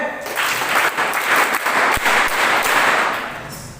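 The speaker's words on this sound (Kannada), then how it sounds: "ಒಂದು ಪ್ರೀತಿಯ ಚಪ್ಪಾಳೆ" Steady audience applause at a school session on exam fear for SSLC students, a dense wash of many hands clapping that swells, holds for several seconds, then tapers slightly toward the end with no talking over it.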